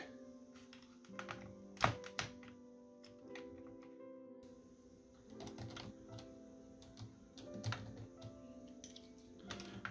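Plastic keycaps pop off a computer keyboard during cleaning, with irregular sharp clicks and snaps, some louder than others, spread across a quiet room.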